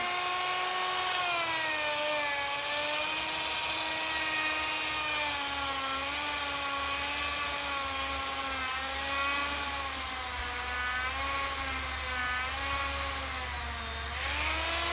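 A polishing tool works on the wheel of a Harley-Davidson 883 Iron, a loud, steady motor whine whose pitch wavers slightly as pressure changes, running continuously up close without speech.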